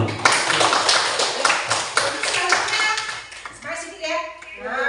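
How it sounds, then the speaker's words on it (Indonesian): Classroom applause after a group presentation, a burst of many hands clapping together that swells and then thins out, with students' voices and chatter rising underneath as the clapping fades. "Kita kasih aplaus dulu."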